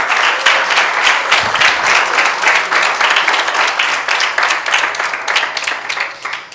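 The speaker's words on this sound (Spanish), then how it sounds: "Un aplauso para Él." A church congregation applauds during a sermon, with loud, full clapping from many hands at close range, steady and energetic for several seconds.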